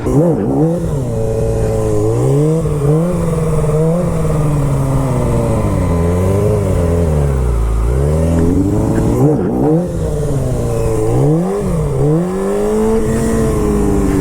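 Car engine revving hard during clutch-kick drifts and spins in a parking lot, loud and continuous with rising and falling pitch sweeps as the revs climb and drop.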